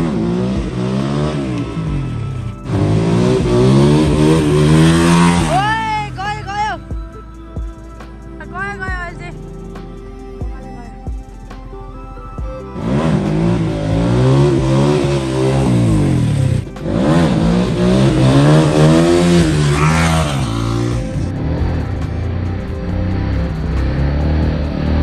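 A motorcycle engine revs hard and rises in pitch during a wheelie stunt, loud and close, with repeated throttle swells and easing between runs, and voices talking over parts of it.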